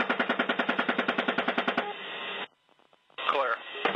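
Military automatic gunfire engaging a target comes through a radio link as a fast, steady burst of evenly spaced shots, band-limited and compressed, followed by radio static, a brief dropout and a squelch burst.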